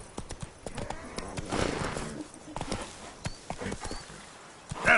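The horse's hooves clip-clop at a gallop in The Witcher 3: Wild Hunt, a quick, uneven run of mid-level thuds with a brief louder burst near the end.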